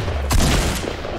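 A single short burst from an assault rifle in the video game Fortnite, sharp and close, fading quickly into a low rumble.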